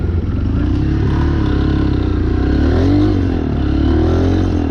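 A motorcycle engine runs loud and close with a steady throbbing drone that rises and dips slightly in pitch as the bike pulls away, with no talk over it.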